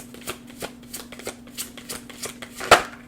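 Oracle cards shuffle in a series of soft, rapid riffling bursts that end in one louder, sharper card flick near the end, close by with no talking.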